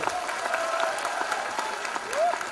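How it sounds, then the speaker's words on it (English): A college audience in an auditorium applauds, many hands clapping in a dense, even patter with some cheering voices mixed in over the short burst. "you guys have to give a round of applause to them"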